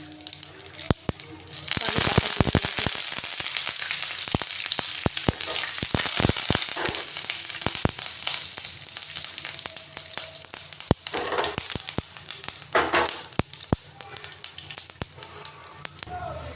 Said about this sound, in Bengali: তেলটা গরম হয়ে গেছে, আমি তেলের মধ্যে হিং দিয়ে দিলাম, কালো সর্ষে আর শুকনো লঙ্কা